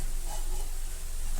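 Curry leaves hit hot oil while egg fried rice cooks, giving a brief, loud, continuous sizzle and crackle close up, with no talking.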